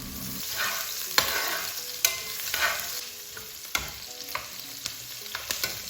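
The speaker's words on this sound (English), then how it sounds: "be sure to always stir your onion because you don't want to leave it in one spot and then it burns in the process" Onions and blended pepper fry for jollof rice while a spoon stirs them, so a soft sizzle runs under repeated sharp scraping clicks against the pot.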